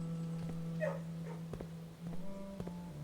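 A dog in the video game Mystery Mansion gives short yips and whimpering barks, a few brief bursts over a steady game music drone.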